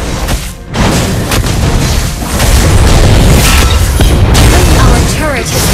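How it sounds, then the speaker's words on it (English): Mobile Legends turret collapsing in battle: a heavy sustained boom and crashing rumble fill the scene loudly, mixed with busy game effects and speech. "Our turret has been destroyed."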